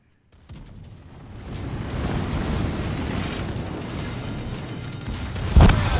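Secondary guns on a warship in World of Warships: Legends, heard as a swelling roar of booming cannon fire and rumbling blasts that holds steady, with a sharper, louder boom near the end.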